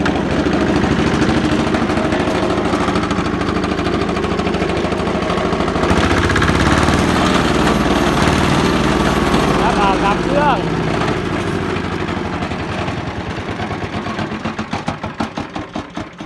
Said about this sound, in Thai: ดีเซลครับคันนี้สวยๆเครื่องยนต์หกแรง